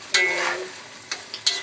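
Hot oil sizzles steadily while a utensil scrapes and stirs fish and meat frying in the pan for okra soup in a few quick strokes, close up.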